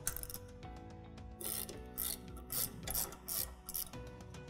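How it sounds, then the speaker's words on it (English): Metal bolt on a fishing reel being loosened, giving close ratcheting and grinding mechanical clicks with scraping bursts that come and go over a few seconds. "the first thing we're going to do is loosen off that of our locking bolt"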